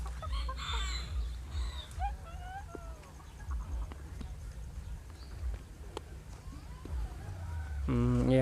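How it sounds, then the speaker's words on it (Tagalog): A black ornamental chicken in a cage on an organic farm clucks faintly over steady low background rumble, with a few bird calls and people talking nearby. "Black chicken."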